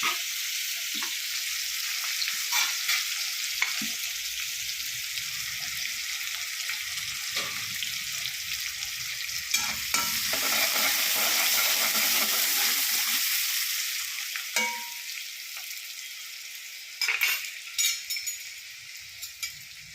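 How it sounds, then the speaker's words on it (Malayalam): Ginger, onion, green chili and carrot fry together in a pan with a constant, bright sizzle, broken now and then by stirring scrapes and light clinks from a utensil. "എല്ലാം കൂടെ വറുത്തെടുക്കുക ആദ്യം തന്നെ."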